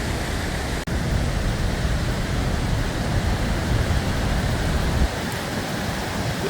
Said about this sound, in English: though it's just a spray from the Zambezi Falls